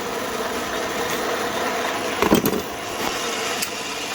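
A manual lathe runs at steady speed while an edge is chamfered, giving a continuous mechanical drone with a brief rattle of cutting contact midway.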